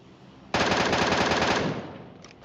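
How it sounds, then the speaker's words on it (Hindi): Rapid automatic gunfire in PUBG Mobile bursts out suddenly, a dense continuous rattle lasting about a second, then tails off into echo with a few faint distant shots. "आखिरकार मैं गोलियां चला सकता हूं"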